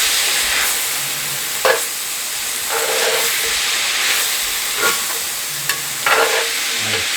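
Cheesesteak beef seasoned with garlic, black pepper, salt and granulated onion hisses steadily in a hot pan, with occasional scraping and stirring knocks from a utensil, close and loud throughout.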